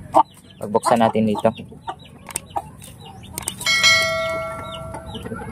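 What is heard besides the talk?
chickens clucking in a yard, giant chicken breed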